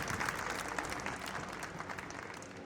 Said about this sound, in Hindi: असीम भारद्वाज जी, प्लीज जोरदार तालियों से स्वागत किया जाए।